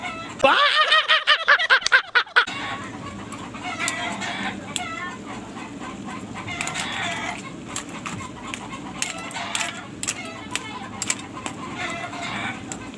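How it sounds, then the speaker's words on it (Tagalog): A rooster crows loudly and close at the start, followed by a flock of chickens clucking continuously in the background with scattered sharp calls. "ingay ng mga manok"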